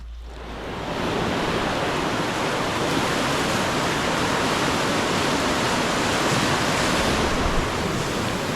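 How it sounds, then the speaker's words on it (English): A river rushes loudly and continuously along an old log rafting trail, a dense steady roar that fades in at the start and holds unbroken throughout. "listen to the birds and the river floating"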